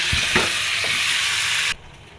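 Potatoes and eggplant sizzle in hot oil in a pan for a home-style curry with dried fish and drumsticks; a steady loud hiss with a few stirring knocks, then the sizzling cuts off abruptly.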